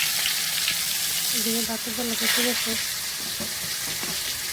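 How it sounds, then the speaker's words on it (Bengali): Spiced fish frying in a pan, a loud, steady sizzle close by, while a voice speaks briefly over it. "এই যে মাছগুলো এখন ভেজে নিব।"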